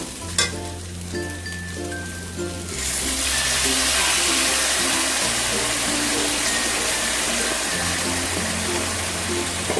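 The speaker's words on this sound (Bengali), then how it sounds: "এবার দিয়ে দেবো অল্প একটুখানি জল" A little water poured into a pan of pointed gourd with poppy seed and coconut paste, setting off a sudden loud, sustained sizzle after a quieter stretch, with a tonal hum running underneath.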